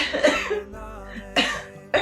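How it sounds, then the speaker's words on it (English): Several harsh, close coughs come in separate bursts, one early, one in the middle and a final one at the end, with quiet gaps between. "I'm coughing today"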